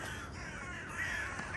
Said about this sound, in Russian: Здесь очень много ворон. Сами, наверное, все слышите.